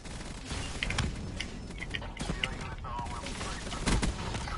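Rapid gunfire bursts crackle through a Black Ops 3 multiplayer match, faint and busy with overlapping shots and background game noise.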